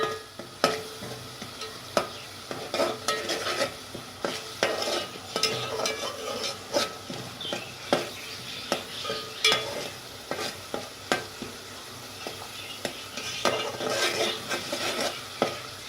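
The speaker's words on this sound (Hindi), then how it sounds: "अदरक और लहसुन को पेस्ट को हल्का सा सौते होने पर हम इसमें टमाटर ऐड कर देंगे" Ginger-garlic paste sautéing in a pan for peas pulao, with a soft continuous sizzle under frequent scraping and clinking strokes of a spoon stirring against the pan.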